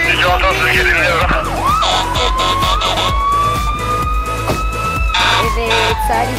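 A real police car siren wails loudly and close, with rising and falling tones over a rumbling engine and traffic noise, continuous for several seconds.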